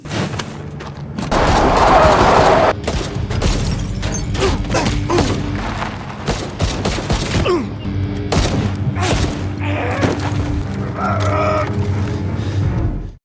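Pistol gunfire during an action film fight, a series of sharp, loud shots and thuds spread across the scene, mixed with chaotic background noise and brief crowd-like sounds.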